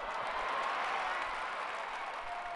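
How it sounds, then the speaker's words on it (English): A cheering crowd of citizens in the strategy game Civilization IV, a steady broadband roar of applause and clapping that holds at an even level for the whole stretch with no clear talk over it. "And the people cheer, yay!"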